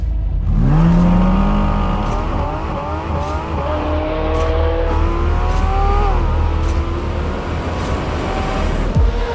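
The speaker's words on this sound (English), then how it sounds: "The new GT4 RS has a 500 horsepower engine directly from the GT3." A Porsche 718 GT4 RS with a 500-horsepower flat-six from the GT3 revs hard and close, its pitch climbing in repeated sweeps with shifts and a sharp drop at the end, no talking.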